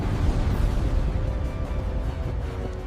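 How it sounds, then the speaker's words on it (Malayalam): A cartoon energy-blast explosion for Vegeta's Big Bang Attack gives a loud, dense, rumbling roar that holds steady for a few seconds, with no voices. "Big bang attack."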